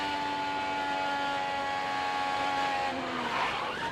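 An IndyCar race car at Nashville lifts off the throttle, its high steady engine whine holding and then dropping in pitch near the end, heard at moderate distance without voices.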